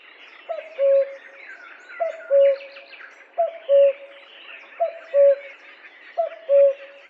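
A common cuckoo calls alone and close by, its clear two-note cry repeated five times at an even pace over a faint backdrop of other birdsong.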